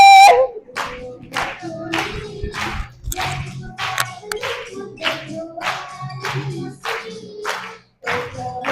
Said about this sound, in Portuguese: Cadê as palmas?